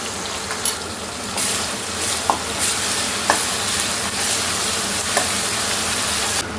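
Green chillies fry loudly in a hot pan for bagara rice and are stirred, producing a dense, continuous sizzle broken by brief scraping taps. No voices.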